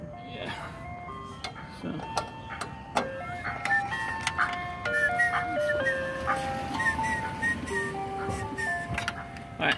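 An ice cream truck plays its tinkling electronic jingle as it passes through a busy neighborhood, a string of bright notes going on steadily, with people talking briefly nearby.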